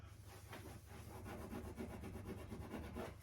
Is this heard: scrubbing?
yes